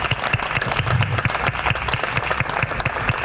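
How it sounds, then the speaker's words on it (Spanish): Audience applause at a book presentation for a volume of "La memoria no es un cuento", a steady wash of many hands clapping at even loudness throughout, with dense irregular claps and no voices on top. "un fuerte aplauso para Delia también."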